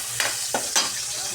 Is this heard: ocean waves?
no